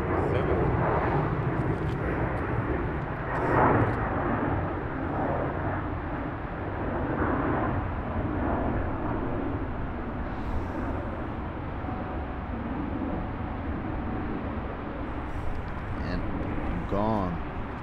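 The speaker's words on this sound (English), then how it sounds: "The 747 is coming in from Sao Paulo." Lufthansa Boeing 747 landing at a freezing Frankfurt airport on runway 25R, a sustained low jet rumble heard at moderate distance, with people talking over it throughout.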